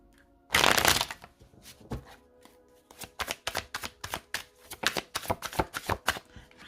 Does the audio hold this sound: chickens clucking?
no